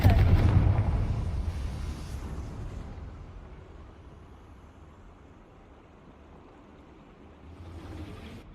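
A fiery blast from the Confringo explosive spell in Hogwarts Legacy, with a loud burst that decays over a few seconds into a low rumbling tail and a faint swell near the end.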